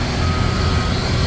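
An aircraft tug with a tow bar at Toronto airport sounds reversing beeps amid loud, constant engine and ramp noise.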